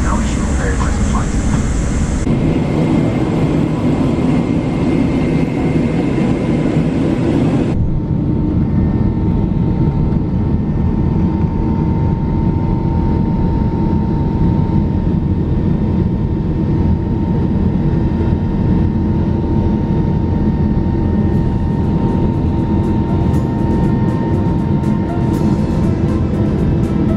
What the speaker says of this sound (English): Within a few minutes we will start our takeoff